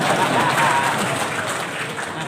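An audience at a mosque waqf program launch breaks into brief, dense applause, steady and fairly loud for a couple of seconds.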